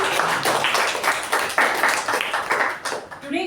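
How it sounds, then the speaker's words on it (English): An audience at a Toastmasters meeting claps in a round of applause, loud and close, with a dense patter of hands that fades out near the end. "A huge round of applause for DTM MU Bhat and Toastmaster Vijay Upendra"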